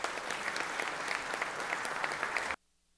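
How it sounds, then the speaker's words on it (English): A round of applause in a Senate chamber, dense and steady clapping from many people that cuts off abruptly into near silence. "Let's give her a round of applause again real quick."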